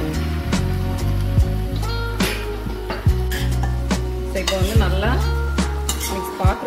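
Food stirred in a sizzling pan after a splash of water: loud, close frying hiss with repeated scrapes, knocks and metallic clinks of a utensil against the pan.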